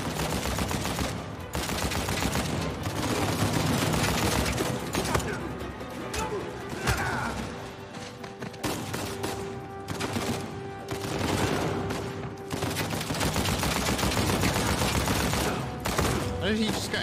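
Loud, sustained gunfire in the action video game Uncharted 4: A Thief's End, rapid bursts and overlapping shots that continue almost without a break over a steady game soundscape.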